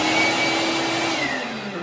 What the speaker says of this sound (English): And I just turned the vacuum on.